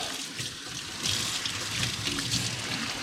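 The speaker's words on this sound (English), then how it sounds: "I'm gonna wash my hands." Water runs from a tap as hands are washed with liquid soap, a steady close splashing stream that grows slightly louder partway through, with no one talking.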